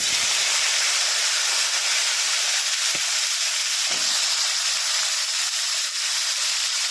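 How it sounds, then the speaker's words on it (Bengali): Potatoes frying in hot oil after fish in a wok, giving a continuous close hissing sizzle at even loudness throughout, with a couple of faint low clunks and no speech. "আলুগুলো ভেজে নেব"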